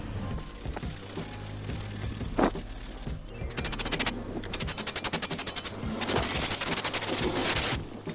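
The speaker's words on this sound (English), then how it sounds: "Just going to run round with a wire brush, just cleaning it all up top to bottom" A wire brush scrubs the front brake hub of an Alfa Romeo Giulietta, a close, harsh rasping with bursts of fast, rattling back-and-forth strokes over steady background noise, no voices.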